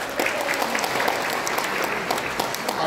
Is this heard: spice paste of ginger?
no